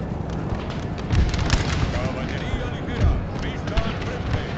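Cavalry gunfire in Napoleon Total War, a couple of dull booming shots over a busy, rumbling battle din with a voice talking throughout.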